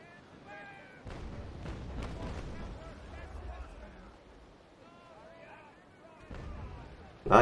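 Ship cannons firing during a naval battle in the sailing game Naval Action, heavy booming blasts around one to three seconds and again near the end, over rumbling background noise and faint voices.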